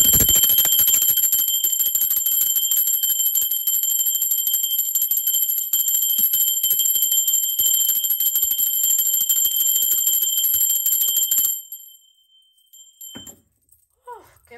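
A bell rung during a spiritual tarot reading gives a bright, sustained metallic ringing that shimmers steadily for about eleven seconds, then stops abruptly, leaving only a few faint, brief sounds.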